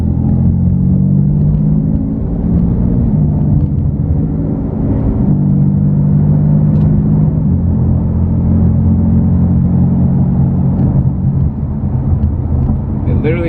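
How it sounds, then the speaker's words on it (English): A catless BMW F80 M3 with an Active Autowerke single mid pipe and stock competition muffler cruises in efficient mode with one exhaust valve closed, giving a steady, loud, low drone from inside the cabin, with a voice speaking over it. "I'm Catless with a Active Autowerke single mid pipe and the stock competition muffler."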